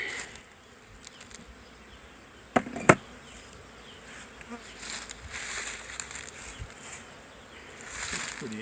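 Honey bees buzzing around a hive during a winter feed check in January, a steady insect drone close by, with two sharp knocks near the middle and faint handling noises.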